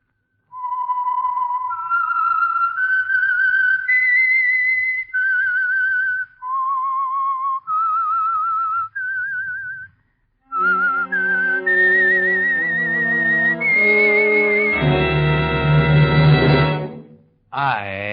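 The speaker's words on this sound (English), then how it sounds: "the signal to listen for is this whistle that identifies the Signal Oil program" Signature whistled melody of the Signal Oil radio program, a clear close solo whistle tracing a rising and falling tune in distinct phrases, then joined by a swelling orchestral passage that builds to a loud climax.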